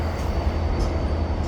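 Freight train with four locomotives rolling past, a continuous low rumble and heavy drone, fairly close and steady, with no one talking.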